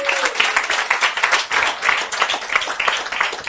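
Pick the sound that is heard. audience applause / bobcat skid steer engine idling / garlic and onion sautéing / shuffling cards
audience applause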